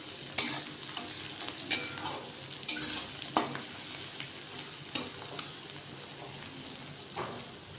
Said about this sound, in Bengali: এবার এগুলোকে ভালো করে ভেজে নেব নরম হওয়া পর্যন্ত।